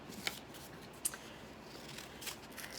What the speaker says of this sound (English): Now I'm going to cut the blue one out.